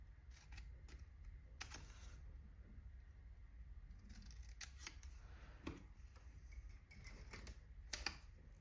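Scissors snip through scrapbook paper in a series of short, crisp cuts, isolated clicks building into quicker bursts toward the end, close and fairly quiet over a low steady background hum.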